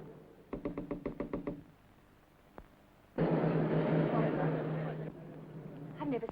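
A run of about eight quick, firm knocks on a front door sounds at close range, followed by a passing car's rising engine rush and a few more faint raps in an old drama.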